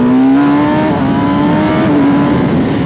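A 2019 Kawasaki Ninja ZX-10R KRT sport motorcycle with an up-and-down quickshifter revs loud and close, its engine pitch climbing steadily for about three seconds with brief dips where it shifts.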